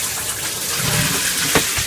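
Water runs steadily from a caravan shower head fitted with an air intake, a continuous close hiss of spray with no speech.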